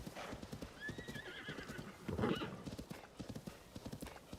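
Horse hooves clip-clop at a steady gallop in Zelda: Tears of the Kingdom, with a whinny partway through, all under a moderate game soundscape.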